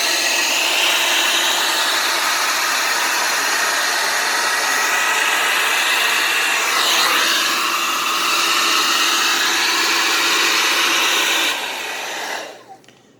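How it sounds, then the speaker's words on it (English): High-pressure air blasts steadily into the vents of an Onida Fire smart TV, a loud, continuous hissing rush that holds for about eleven seconds, then cuts off and fades out. "it's blowing the dust off the components of the TV"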